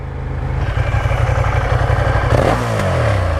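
A Ducati Diavel Dark motorcycle engine revs hard, a loud, close, throbbing rumble that builds and then surges in a sharp rising blip toward the end, with no talking.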